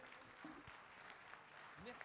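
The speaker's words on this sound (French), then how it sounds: "Et on peut les applaudir pendant la photo." Applause from an audience during a group photo at a ribbon award ceremony, a short burst of clapping with voices talking over it.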